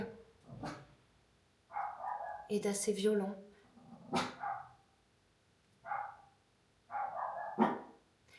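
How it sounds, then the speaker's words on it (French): A neighbour's dog barks in short sharp bursts spread through the stretch, mid-distance and fairly loud, alternating with and overlapping a person talking. "j'ai le chien de ma voisine qui aboie et la mienne, elle s'émeut aussi"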